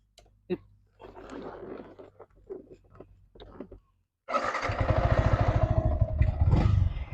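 A 2019 Yamaha R15 is test ridden. After scattered clatter and quiet, a loud engine starts and runs, rising and revving up close for the last three seconds.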